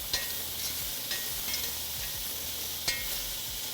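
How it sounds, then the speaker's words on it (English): Onions sizzle steadily in a hot pan with butter, with a few soft scrapes and clicks as they are stirred, close and unbroken, with no talk. "Stir the onions a bit."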